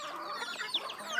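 A few soft clucks and murmurs from a black giant chicken in a backyard, close by and fairly quiet, over light background noise.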